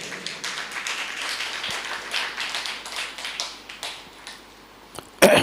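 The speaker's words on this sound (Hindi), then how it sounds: "सुनिए, ताली कमजोर बजाते हैं आप" A seated audience claps at a religious storytelling talk, with light, scattered hand claps spread through the moment. The clapping is faint and thin, and one sharp loud clap lands near the end.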